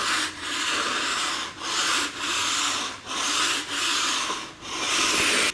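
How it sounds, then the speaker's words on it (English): A flat floor scraper pushed lightly along a tiled floor across grout lines, giving repeated rasping scrape strokes about every half second to a second, each separated by a short pause, close and fairly loud with no talking. "lightly hold your flat scraper at knee height, no pressure, and push it along the floor"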